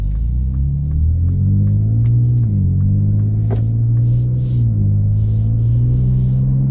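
A 2025 Ford midsize pickup truck in sport mode gives a deep, steady engine rumble with its pitch rising and dipping as the revs change, loud and close, with no talking over it.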